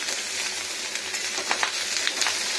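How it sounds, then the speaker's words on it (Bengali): Poppy seed paste fries in a pan for a brinjal and potato posto dish, giving a steady soft sizzle with scattered small crackles and pops close by. "ভালো করে ভেজে নিই।"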